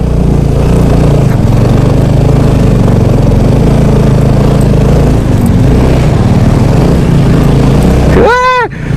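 A motorcycle engine labors steadily and loudly on a rough, slippery mountain road in Mustang, a continuous close drone with a brief rising whine near the end.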